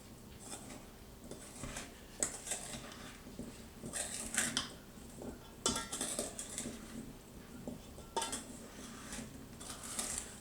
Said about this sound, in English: You want to stir it gently but well. You don't want to break the blueberries